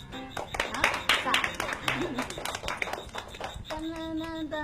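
An audience clapping hands in a fast, uneven series of sharp claps under lively talking and voices, with a sung or hummed tone rising near the end.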